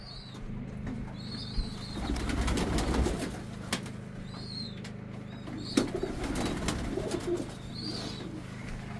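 Pigeons coo in low, soft rolling calls close by, repeating every few seconds, with occasional wing flutters and faint rustling between them.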